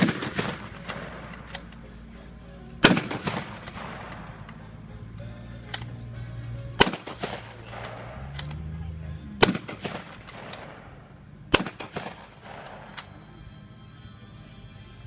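A rifle chambered in .30-06 and loaded from a five-round stripper clip is fired at an outdoor weapons demonstration. Four sharp reports sound several seconds apart, slow and evenly spaced, over a quiet low background hum.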